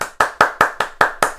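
Hands clap in a steady, even rhythm, seven sharp claps about a fifth of a second apart, imitating waiters applauding as a restaurant dish is served. The claps are close and crisp, with no talking.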